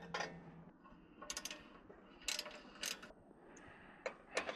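A hand ratchet with a 3/8 socket works on the shield of a 1997 Murray riding mower, sounding in short bursts of quick metallic clicks separated by brief pauses, close and fairly quiet.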